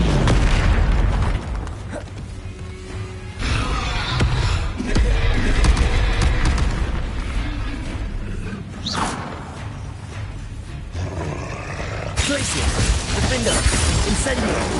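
Confringo blasting spells explode repeatedly in a wizarding video game, loud booms and bursts following one another with whooshes and crashes, interspersed with other spell effects.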